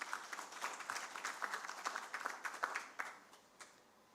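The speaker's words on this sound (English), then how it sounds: "give him another round of applause" A conference audience at a national food security and nutrition assessment launch gives a round of applause, moderately distant clapping that swells and then tapers off as it ends.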